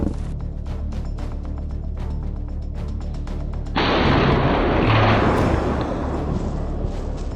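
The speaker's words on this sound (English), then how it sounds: "When the final shots were fired, the dangerous confrontation between man and nature was over." Gunshots ring out in a repeated volley of sharp reports amid loud outdoor noise during a confrontation with a lion, followed by a sustained roaring burst of noise.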